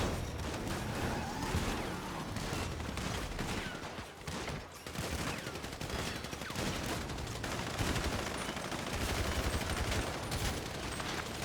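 Gunfire crackles in a GTA roleplay video game, dense bursts of rapid shots and booms firing almost without pause across the whole stretch, loud and close.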